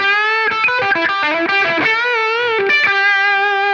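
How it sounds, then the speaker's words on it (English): An electric guitar plays through a Klon-style overdrive pedal modelled in Tonex at maximum overdrive with the tone set high. A quick run of distorted notes leads into sustained ringing notes, loud and close, with no voice. "So here's the sound of the highest level of overdrive with the tone on 7."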